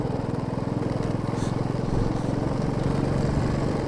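Motorcycle engine running steadily on the mountain road from Kargil toward Ladakh, a continuous low rhythmic thrum close by, no talking heard.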